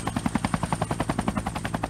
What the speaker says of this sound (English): Once the sections were completed, they were flown to the site by helicopter.